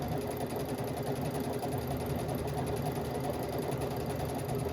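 A Brother Luminaire sewing machine with its laser guide on stitches at a steady, rapid pace, a continuous close mechanical whir with needle vibration that holds even throughout.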